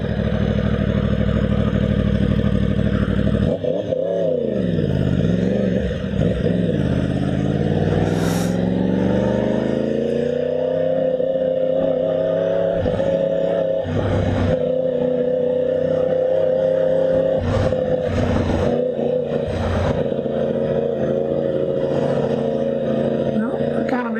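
A 2020 Yamaha R1 sport bike pulls hard through fourth gear on city streets, its engine rising and falling in pitch with repeated rev sweeps, loud and steady from close by with wind rush.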